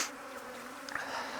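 Honeybees buzz in a steady, dense drone while one hive is stacked on top of another to combine them, close and continuous with a few brief individual flybys.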